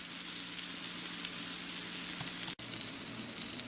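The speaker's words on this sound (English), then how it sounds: "now we're going to fry them up for 4 minutes on each side" Sandwich filling fries in a pan with a steady, close sizzle and a faint hum underneath, broken by one sharp click near the end.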